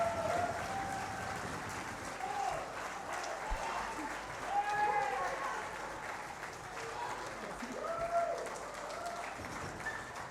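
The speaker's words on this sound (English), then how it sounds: "Now that is what we call a round of applause." An awards ceremony audience giving the finalists a long, sustained round of applause, dense continuous clapping filling a large room at moderate distance, with faint voices mixed in.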